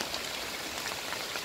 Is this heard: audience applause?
no